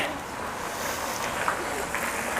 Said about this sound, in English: there's a little bit of wind gushing here